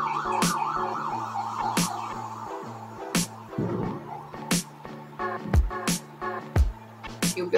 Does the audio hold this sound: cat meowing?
no